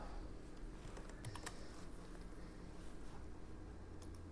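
Fingers type on a computer keyboard in a steady, quiet patter of key clicks with occasional louder taps, faint and with no talk.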